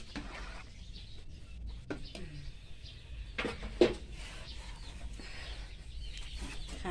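Chickens cluck softly while eating boiled rice, in scattered faint calls over a low outdoor background with some distant voices.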